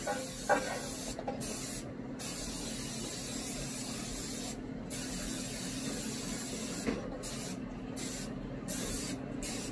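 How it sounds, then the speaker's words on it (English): Several short hissing bursts of aerosol cooking spray onto a baking pan, close by, separated by brief pauses, over a faint background hum. "I am going to spray my pan"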